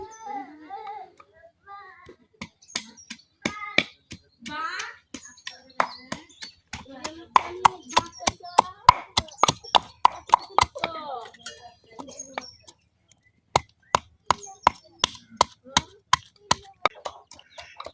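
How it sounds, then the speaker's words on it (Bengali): Steady rhythmic thuds of onion being crushed on a hard surface, close and sharp, with a voice speaking between the strikes. "এখন আমি পেঁয়াজ ছেঁচে নিতেছি"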